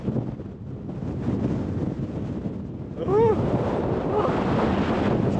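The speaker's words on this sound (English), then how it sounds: "it's raining, it's windy, looks like there's a storm coming in" Strong wind buffets the microphone on an open fell near Coniston in the rain as a storm moves in, a steady loud roar with gusts that swell near the end.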